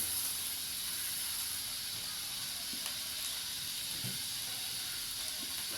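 Dried curry leaves frying with chilli powder in a pan for a Chettinad curry leaf thuvaiyal, a quiet even hiss with a few faint soft knocks from stirring.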